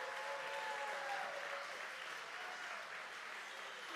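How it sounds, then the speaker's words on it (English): Sustained, dense audience applause fills a theater at a charity stage show, steady and even for the full four seconds with no voices over it. "Let's give all of our performers tonight another big round of applause."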